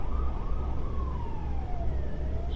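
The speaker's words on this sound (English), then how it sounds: "2 police cars." Police car siren in the video game American Truck Simulator, a single wailing tone sweeping slowly downward over steady truck engine rumble, moderately loud and continuous.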